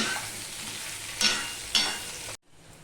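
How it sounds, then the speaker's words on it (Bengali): Papaya and potato fry in a pan with a close, bright sizzle and two spatula scrapes before the sound cuts off abruptly to near silence. "এই পেঁপে আলুটাকেও আমি একটুখানি ভেজে নেব"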